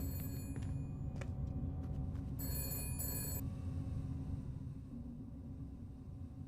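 A telephone rings in the detective game Shadows of Doubt, short bursts of bright electronic trilling over a steady low rumble of city ambience, then falls silent.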